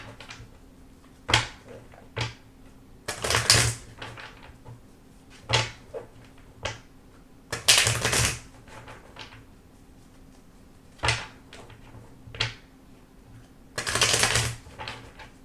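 Tarot cards are shuffled in short, sharp riffling bursts separated by quiet gaps, with several rounds of shuffling heard up close.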